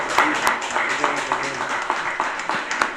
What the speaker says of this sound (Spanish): Pueden aplaudir si les ha gustado